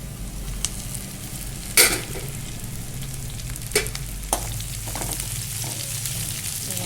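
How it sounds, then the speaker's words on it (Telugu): Curry leaves and onions fry in oil before moringa leaves are added, a continuous sizzle broken by a few sharp spatula knocks and stirring scrapes, close and alone. "ఇప్పుడు ఇవన్నీ బాగా ఏగనిచ్చి ఇందులో మునగాకు వేసుకుందాం"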